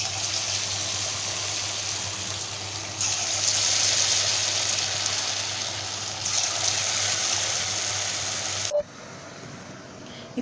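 Small dough balls deep-fry in hot oil with a loud, continuous bubbling hiss that swells a few times, then drops off sharply near the end.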